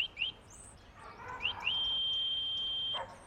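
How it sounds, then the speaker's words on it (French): A few quick electronic chirps from an Angell M Cruiser e-bike's electronic bell, then a long, steady, shrill electronic tone that holds for over a second while the button is held, before cutting off. "qui ensuite fait un son strident très long quand on laisse son doigt appuyé"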